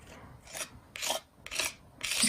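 Paint scraped with a tool while blending Peony Pink and Succulent Green, four rhythmic rasping strokes close up at a steady pace, with no talking.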